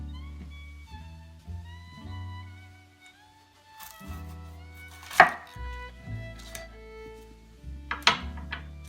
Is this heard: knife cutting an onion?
yes